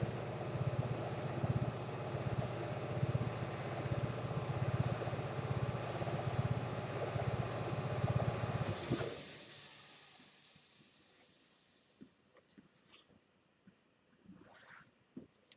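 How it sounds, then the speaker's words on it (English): An air conditioner compressor in an insulated room kicks on with a loud steady hiss and hum, then winds down and fades, leaving faint scattered ticks and rustles. "there's my compressor kicking on again."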